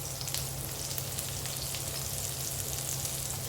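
Garlic and onion frying in a pan, a steady soft sizzle with crackling pops, continuous and fairly quiet throughout.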